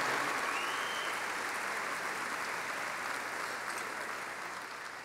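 A crowd claps at a baseball Hall of Fame induction ceremony, producing a broad, even applause that starts full and gradually tapers off toward the end, with no talking audible.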